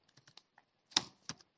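Several light, separate keystrokes tap on a computer keyboard while typing in a Python data analysis session, followed by two louder, sharper key presses close to the mic.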